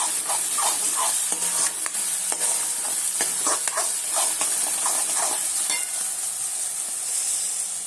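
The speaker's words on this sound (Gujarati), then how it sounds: "અને અહીંયા આગળ થઈ રહ્યું છે, ડુંગળી શેકાઈ રહી છે." Onions fry in a pan with a bright, continuous sizzle close by, punctuated by a string of stirring and scraping strokes throughout, with no voices.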